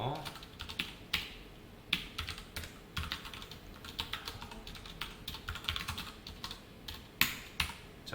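Continuous typing on a computer keyboard with irregular clusters of keystrokes and occasional sharper, heavier presses, close and fairly quiet, with no voices.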